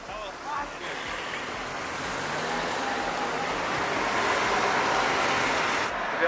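A Porsche Cayenne Coupé drives past among steady roadway traffic, a broad rushing whoosh that builds gradually and holds loud, with faint talk in the background.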